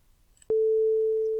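After a faint moment of quiet and a sharp click onset, a loud, pure 440 Hz sine tone generated in Audacity sounds steadily and without variation for about a second.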